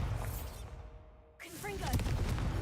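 A Bombarda blasting spell goes off in Hogwarts Legacy: a rushing whoosh cuts out, then a sharp explosive burst with crackling debris follows, loud and close, with a voice speaking briefly.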